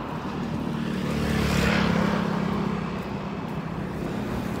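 Heavy road traffic in a busy town, a steady broad rumble of passing vehicles that swells briefly and settles again, continuous and moderately loud with no voices.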